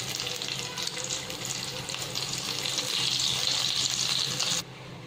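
Poha kurkure pakoras frying in hot oil, a steady loud crackling sizzle that holds throughout, close, then drops suddenly near the end, with no talk.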